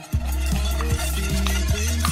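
A spoon stirs cooked courgettes and broccoli into a thick béchamel seasoned with nutmeg, giving steady, close scraping strokes repeated every half second or so against the pan, all within one continuous low, full layer of sound.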